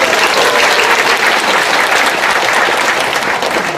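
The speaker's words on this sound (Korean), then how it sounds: "하나 엄마에게 박수를." A church audience at a summer retreat lecture applauds in a steady, dense wash of clapping that holds at full strength for several seconds.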